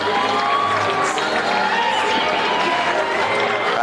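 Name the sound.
crowd ovation at a men's water polo game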